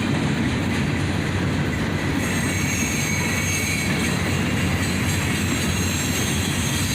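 Freight train rolling past loud and close behind an ex-Conrail SD42 and an SD40 M2 originally built for the Louisville and Nashville, a steady roar of wagons with squealing wheels and rail clatter, no voices.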